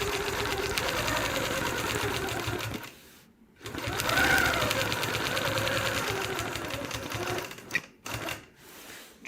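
A sewing machine hums and rattles rapidly during free-motion quilting with a ruler, running in continuous bursts with a brief pause near three seconds and stop-start gaps toward the end.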